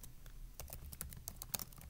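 A command is typed on a Chromebook keyboard: quiet, irregular key clicks tap out in a quick run of soft strokes.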